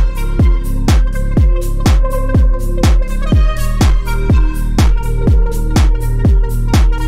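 Serum synth lead recreating a lead: bright plucked synth notes in a steady rhythm over punchy kicks, loud and alone.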